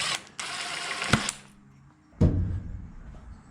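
Screws driven in with a power drill while building a truck bed camping kitchen: two bursts of whirring drive, the first about a second long and ending in a sharp snap, the second starting abruptly and trailing off, close and alone.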